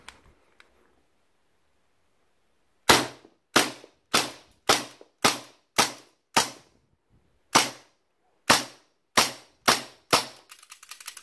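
WE Mauser M712 gas blowback airsoft pistol firing twelve sharp, loud cracks at a steady, slightly uneven pace after a quiet stretch, each shot with a short clattering decay and a final slide lock-back click.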